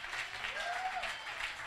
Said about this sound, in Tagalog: Kung papalakpak ka, dapat yung pinakamalakas mo.